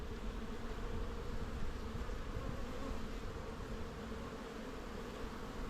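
Steady, dense buzzing of many honeybees close by around an open hive during inspection, a continuous drone with no pauses and no voices.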